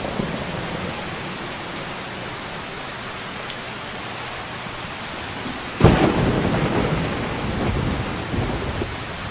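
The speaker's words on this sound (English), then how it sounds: "Oh, it's a fully blown storm." Heavy rain pours steadily in a Skyrim thunderstorm, with a loud, close thunderclap crashing in past the midpoint and rumbling on under the downpour.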